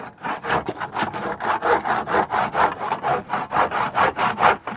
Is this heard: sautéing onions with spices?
no